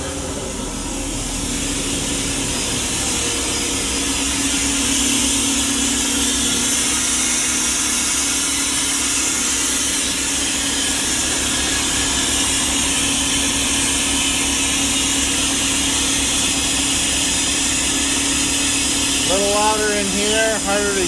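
Positive displacement rotary screw steam turbine running at 15 hertz through an inverter, a loud, steady mechanical drone and hiss with constant tonal hum throughout, close by.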